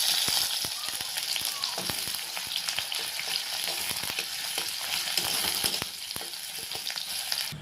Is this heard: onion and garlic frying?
yes